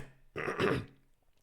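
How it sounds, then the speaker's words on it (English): A single short burst of choked laughter mixed with a cough, close and fairly quiet, lasting about half a second before trailing off into silence. "I tried to laugh and cough at the same time"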